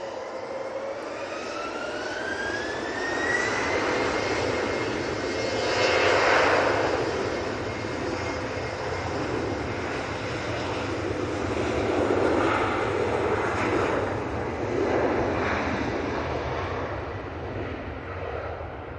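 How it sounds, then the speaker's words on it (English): An Embraer Phenom business jet taxis along taxiway Tango at Manchester Airport, a continuous jet whine and rumble with a rising tone early on and the roar swelling and easing in slow waves. "Going down Tango, we also have an Embraer Phenom."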